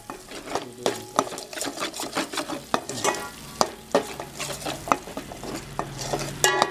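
A spoon repeatedly stirs and scrapes cooked rice through cashew masala in a hot pan, giving a steady rhythm of close clanks over a continuous low sizzle, with no talking.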